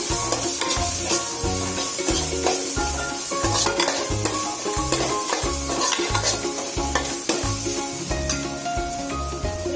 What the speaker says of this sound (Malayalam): അര ടീസ്പൂൺ മുളക് പൊടി അതേ ആവശ്യമുള്ളൂ നന്നായിട്ടൊന്ന് ഇത് പച്ചമണം മാറുന്ന വരെ ഒന്ന് ഫ്രൈ ചെയ്യാം